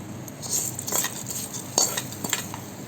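A spoon stirs hot tempering of curry leaves and dried red chili into peanut chutney, with a few close, light scrapes and clinks against the bowl and a faint sizzle beneath.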